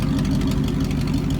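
A loud truck engine idles steadily, its deep exhaust rumble continuous and close throughout.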